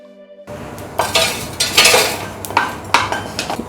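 Cumin seeds crackle in a dry pan for sweet pongal: after a brief quiet start, uneven light pops and ticks sound alongside a few clinks of a spoon against the pan, close and fairly loud.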